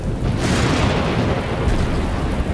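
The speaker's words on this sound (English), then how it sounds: "Thunder and lightning combine with cannon fire from Union gunboats" Thunder rolling through a violent night storm over a Civil War battlefield, mixed with booming cannon fire from Union gunboats, a dense, continuous low rumble with heavy bursts running throughout.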